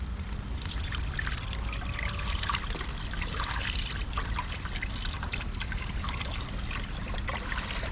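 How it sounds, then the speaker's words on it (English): A quart of beef broth is poured into a soup pot over a campfire outdoors, a continuous trickling, splashing pour heard up close and steady for several seconds. "So to make this soup, we're going to add a quart of beef broth,"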